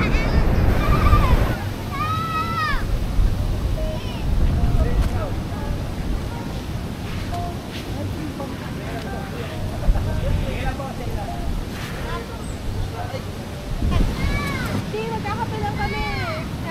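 Rough ocean waves too big for swimming, off an island in the Philippines: surf washing and sloshing continuously, with gusts of wind buffeting the microphone and voices talking and calling over the water.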